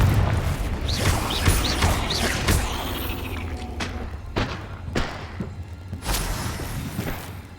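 The Confringo spell in the video game Hogwarts Legacy sets off a series of thumps and booming impacts. Crackling debris follows, loud and busy over a rumbling game background.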